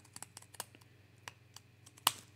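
Long-bladed scissors slice through card stock in a single snip, a sharp crisp crunch near the end after a few quiet light clicks of handling, close and fairly faint with no talking.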